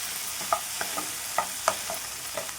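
Tomatoes frying in a pan, a steady soft sizzle broken by a few light clinks and scrapes of a spoon stirring, close and fairly quiet.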